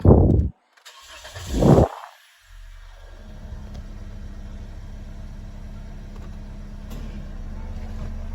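A 2018 Toyota Vios 1.5G automatic's engine cranks with two short bursts, then catches and settles into a steady low idle that continues to the end.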